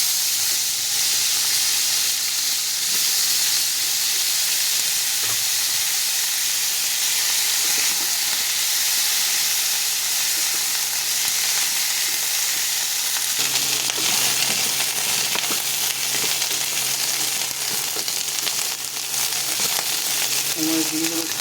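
Cauliflower frying in oil in a pan just after fish has been fried in it: a loud, continuous close sizzle and hiss with occasional stirring scrapes, steady throughout with no speech.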